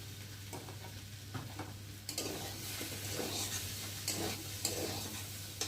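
Potatoes and pumpkin frying in a pan for a vegetarian curry give a continuous sizzle, broken by repeated scraping strokes of a spatula as the pieces are stirred close by.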